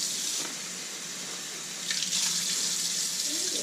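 Tap water runs steadily and fairly loud from a faucet after a Halo 5 whole-house water filter install, a continuous close hiss with a slight surge partway through.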